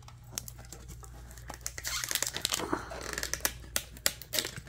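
Metal Pokémon card tins being pried open and rattled, with crinkling packaging, sharp clicks and tapping up close, growing busier toward the end.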